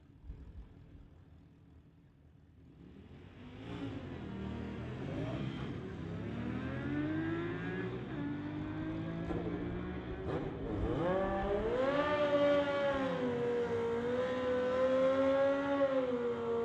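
At a drag strip, a 2019 Indian motorcycle and a Honda CBR race. Engines rise from quiet into loud, climbing revs with repeated gear-change dips, and the roar grows nearer and stronger toward the end.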